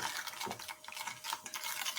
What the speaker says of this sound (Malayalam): അപ്പം നമ്മളിതൊന്ന് ഇടക്കൊന്ന് ഇളക്കി കൊടുക്കുക